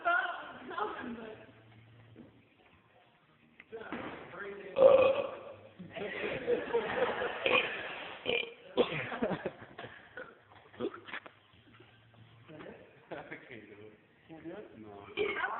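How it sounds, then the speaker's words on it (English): A long drawn-out burp during a church burping contest, rumbling and croaking across several seconds, close to the mic, with voices talking and laughing around it. "That was all part of the same burp, man."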